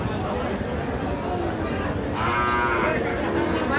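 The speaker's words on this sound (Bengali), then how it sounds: "বেশ কয়েকটা গরু দেখছি আমরা এখানে" Cattle moo at a busy livestock market for crossbred Friesian cows and calves. A loud, close low moo rises in the second half over a constant murmur of crowd chatter and voices.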